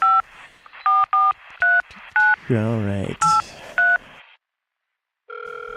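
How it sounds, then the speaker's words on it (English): Touch-tone telephone being dialed, a quick series of short, crisp DTMF beeps at a steady pace, close and loud. A brief spoken remark cuts in partway through, and a held tone follows after a short gap. "Let's go ahead here and we'll dial up the phone."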